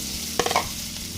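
Thick-cut onion and red pepper hit a hot mix of oil and butter in a pan, giving a brief burst of clattering and sizzle over a soft steady fry.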